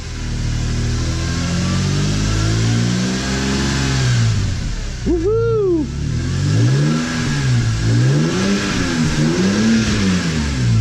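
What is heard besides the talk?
BMW E46 M3 S54 engine revving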